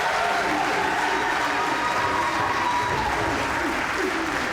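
A crowd at a Weber Cup bowling match between Europe and the USA breaks into loud, sustained applause and cheering that fills the whole stretch without a break.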